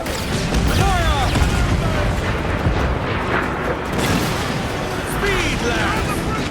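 Ship cannons fire in a naval battle in the video game Assassin's Creed Black Flag, heavy booms rolling over a dense roar of wind and sea, with voices faintly present.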